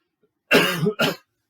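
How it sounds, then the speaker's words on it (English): One close, sharp cough with a short follow-up cough right after, in otherwise quiet surroundings. "Oh, little cough there."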